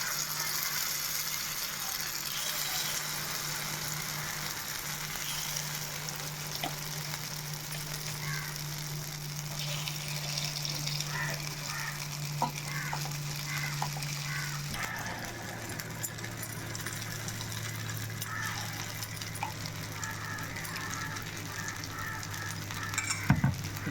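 Paniyaram batter sizzles steadily in a hot pan on a low flame, a continuous close frying hiss with a low hum underneath and occasional faint clinks, and no one speaking.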